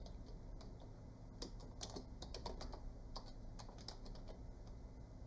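Soft, quick keystrokes on a computer keyboard tap out irregular bursts of clicks at close range, faint and alone with no voices.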